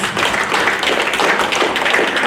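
An audience at a Women's Month proclamation signing applauds steadily, producing a dense, even patter of many hands clapping close by that holds at a constant loudness throughout.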